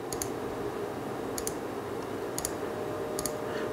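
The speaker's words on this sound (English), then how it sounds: "and let me do some right clicks." Computer mouse right clicks while digitizing an anime embroidery design in software, heard as four sharp double clicks spaced about a second apart over a steady background hum.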